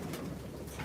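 Birmingham Roller pigeons cooing in a soft, steady, low murmur of overlapping coos, close by and continuous, with no talking.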